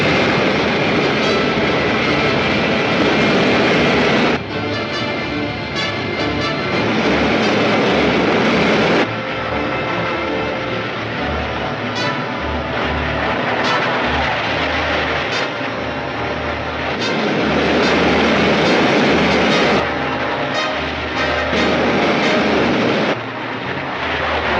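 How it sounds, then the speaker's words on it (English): A main rocket engine fires in a 1953 cliffhanger serial film, a loud, continuous roaring rush that swells and shifts in waves for about twenty-five seconds, filling the scene with no voices. "Fire main rocket. Main rocket."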